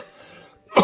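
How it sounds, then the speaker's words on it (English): A single short, loud cough bursts out at the very end after a stretch of quiet room tone, in the setting of a home karaoke livestream before singing. "Let me cough it out a bit, though"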